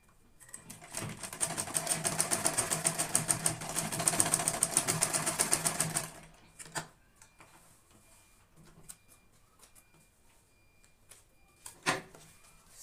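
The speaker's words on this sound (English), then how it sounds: "So I'm just going to sew it to my fabric." A sewing machine stitching elastic onto fabric for a visor turban sun hat runs in a fast, steady rapid-fire burst for about six seconds, followed by scattered faint handling clicks and rustles.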